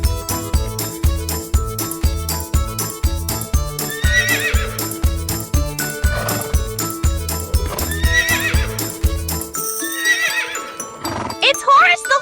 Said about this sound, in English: It's Horace the horse, who trots with such pride